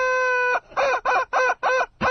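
A rubber chicken is squeezed loudly up close: first one long, shrill squeal, then a run of four or five short, rhythmic squawks with brief gaps between them.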